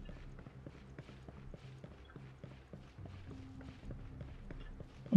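Rhythmic running footsteps of a soldier in the video game Ghost Recon Breakpoint, steady and moderately quiet over a low ambient game hum, ending in a brief louder thump.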